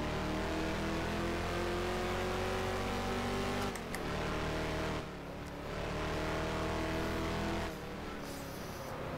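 A Lola T70 race car in the rFactor sim, WSC1970 mod at Solitude, roars with a steady loud engine drone, dropping in pitch with brief lifts on downshifts before revving back up, with no talking.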